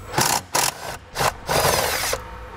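A 13 mm socket on a long extension works a nut off under a 2018 Jeep JL Wrangler. Four short ratcheting bursts come close and loud, the last one longest, with brief pauses between.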